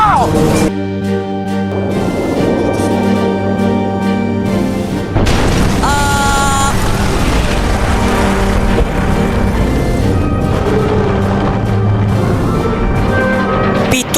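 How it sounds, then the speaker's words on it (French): A torpedo strikes the starboard side of the Lusitania near the coal bunkers, and a heavy, continuous rumbling boom of an explosion follows, loud and sustained throughout. "L'impact provoque une violente explosion"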